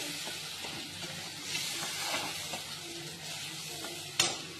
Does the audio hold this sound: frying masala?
yes